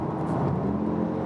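An Audi SQ2 hot-hatch SUV pulls away after a paddle-shift downshift, its engine giving a loud, steady low whir and drone that builds slightly in the middle of the short stretch, with no voices.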